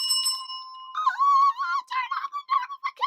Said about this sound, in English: And if you could turn on the notification bell.